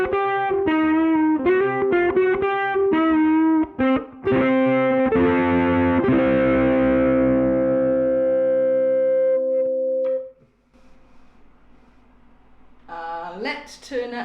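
Ukulele played through a cheap Kmise distortion effect pedal: loud, fuzzy strummed chords and picked notes, then a long sustained distorted ring fading into hum, with brief feedback-like squeals near the end.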